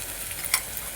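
Ground coriander paste hitting a hot pan of mushroom pulao base, a brief low sizzle with a small sharp spike partway through.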